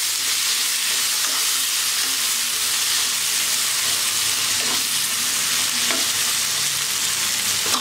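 Tomatoes fry in a pan with salt added, a steady broadband sizzle running throughout with occasional scraping stirs, close and fairly loud, no voices.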